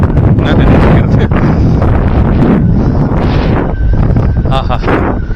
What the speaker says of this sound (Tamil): தூரல் போட்டு விட்டு இருக்கு, காற்று நல்லா சில்லுன்னா இருக்கு.